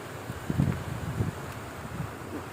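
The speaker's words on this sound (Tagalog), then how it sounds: "Lakas ng hangin" Strong storm wind buffets a house with a rain-drenched roof, low gusting rumbles swelling and fading over a steady background hiss.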